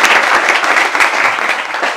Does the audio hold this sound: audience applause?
yes